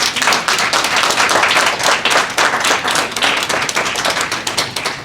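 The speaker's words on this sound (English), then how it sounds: "Please give them a round of applause." Audience giving a round of applause for a couple at a Moorish recognition certificate ceremony, loud, dense and sustained clapping from many hands throughout.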